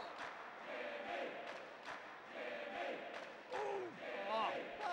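Wrestling arena crowd at an ECW event cheering and shouting in a continuous roar that swells and surges, with voices rising above the noise.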